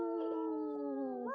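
A person imitates a wolf howl over a microphone, a single sustained tonal howl held steady and rising slightly at the end, close and clear.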